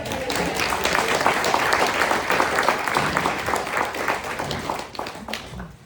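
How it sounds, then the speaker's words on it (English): Sustained audience applause at the close of a balance and fall prevention talk, dense steady clapping from a room of people that fades slightly toward the end. "before we wrap it up, big round of applause"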